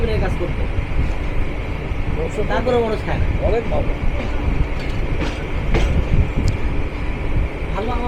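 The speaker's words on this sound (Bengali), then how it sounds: "আপ তিস্তা এক্সপ্রেস যাত্রা শুরু করলো তার হেডকোয়ার্টার জামালপুর টাউন রেলওয়ে জাংশনের উদ্দেশ্যে" The Teesta Express pulls out of Pearpur railway station with a steady, loud rumble and rolling rail clatter throughout, and faint voices sound under the noise.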